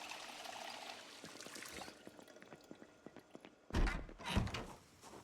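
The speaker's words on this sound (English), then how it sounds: "let me just drink and fill my water bottle" Water trickling and pouring into a water bottle at a tap in the video game Project Zomboid: a soft running stream, then louder splashing and a dull thunk near the end.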